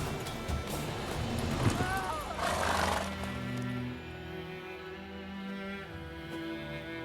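Roach, the horse in The Witcher 3 video game, gives a loud, near whinny with a rising and falling cry, over a steady bed of background music and ambience.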